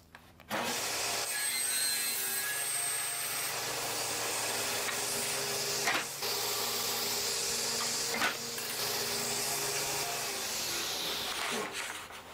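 A power saw cuts wood pieces to about 20 inches long, making a sustained loud buzzing rasp with brief dips between cuts, close by.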